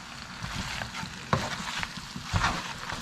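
Sausage being stirred into pasta in a pan, soft scraping and mixing with a couple of sharper utensil knocks, fairly quiet and close with no talk.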